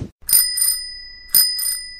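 A bicycle bell rings twice in quick pairs, bright metallic trills separated by a short silence, close and loud with nothing else around.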